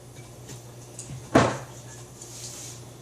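A traditional non-stick frying pan holding egg residue is emptied, producing a single short, sharp knock of the pan against a hard surface in a quiet kitchen.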